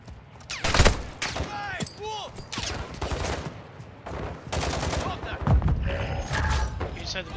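Gunfire from the video game Call of Duty DMZ comes in dense, repeated bursts and sharp bangs, mixed with thuds and mechanical clanks. Radio-style game voice lines are mixed in.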